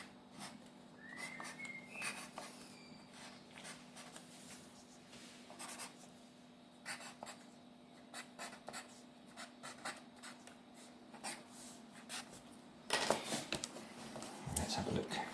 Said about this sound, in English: So if you want to write anything, you've got to write it backwards.